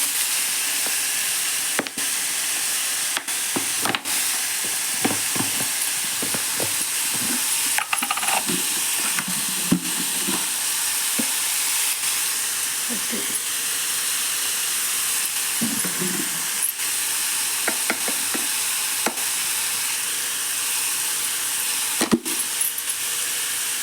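Broad beans stir-frying in a pan with salt and turmeric, a steady close sizzle and hiss throughout, with scattered clicks and scrapes of stirring.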